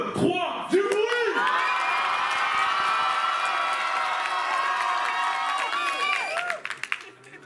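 A comedy show crowd cheering on cue, loud sustained shouting, whoops and clapping for about seven seconds that dies away at the end.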